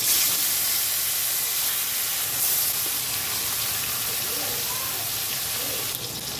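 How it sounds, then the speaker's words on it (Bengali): Pieces of bhetki fish rubbed with turmeric fry in hot oil, giving a loud, steady, broadband sizzle and hiss that runs without a break, close and unbroken by talk. "মাছগুলো ভাজতে ছেড়ে দেবো"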